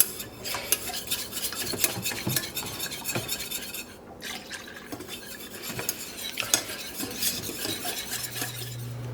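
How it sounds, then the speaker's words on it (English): Milk being whisked a little at a time into a béchamel sauce in a pan for a layered Mediterranean casserole: brisk, continuous metallic whisk scraping and clicking against the pan, close and steady, with a brief lull midway. "Add milk slowly. A bit at a time as you whisk."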